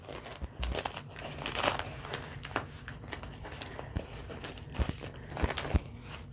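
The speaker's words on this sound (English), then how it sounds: "I'm going to peel it off of the paper towel." Cooled adhesive being peeled off a paper towel, giving close, intermittent crinkling and tearing rustles in irregular bursts, with sharper crackles near the end.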